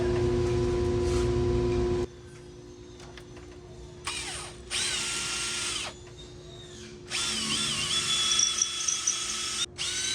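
A power drill bores through a part on a Saab 900 car in loud bursts, whining at high speed through the metal and then pausing, with a steady hum underneath before the bursts and gaps.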